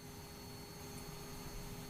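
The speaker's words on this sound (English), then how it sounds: "Engine sounds." Warbird aircraft engine in Microsoft Flight Simulator, a steady, droning hum with a constant tonal whine, even in loudness throughout with no voices.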